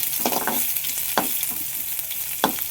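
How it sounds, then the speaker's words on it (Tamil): Garlic cloves sautéing in a hot pan for a drumstick-leaf stir-fry, a steady close sizzle broken by a few sharp stirring scrapes. "ஒரு 4 பல்லு பூண்டு, போட்டு நல்லா வதக்கிக்கணும்."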